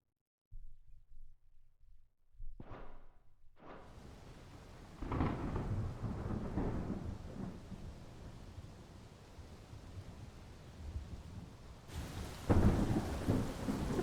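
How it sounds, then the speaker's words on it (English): A Final Fantasy XVI thunderstorm opens with a few low rumbles and a sharp crack of thunder, then steady heavy rain hisses throughout, with rolling thunder swelling underneath and a louder burst near the end. "This thunderstorm."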